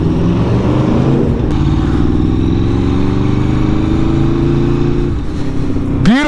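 A 2024 Aprilia RSV4 Limited Edition with an Akrapovic full exhaust roars loudly and close while riding in Santa Monica, California, its engine note holding steady, then dipping and rising again as the revs climb near the end.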